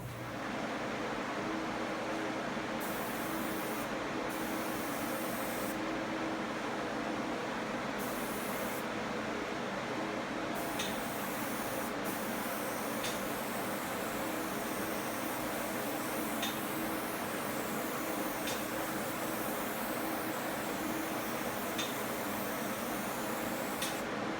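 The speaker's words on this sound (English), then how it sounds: "We go get the fan motors going." Fan motors run on a drying setup for a high-end wall finish, a constant loud broadband whoosh that holds steady throughout, with faint periodic ticks and no talking.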